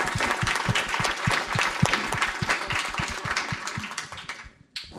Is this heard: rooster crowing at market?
no